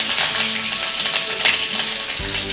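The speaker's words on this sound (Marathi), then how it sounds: "तेलामध्ये मोहरी, जिरे, हिरवी मिरची, कढीपत्ता टाकून घेऊयात." Mustard seeds, cumin, green chili and curry leaves sizzling in hot oil for chapati poha, a loud, steady crackling fry with a few stirring scrapes near the end.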